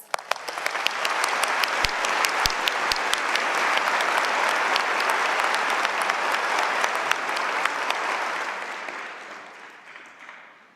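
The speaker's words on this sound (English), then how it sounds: "let's have a round of applause for our graduates" A large convocation audience applauds graduates, a loud, dense, continuous wave of clapping that swells quickly, holds steady for several seconds, then gradually fades toward the end.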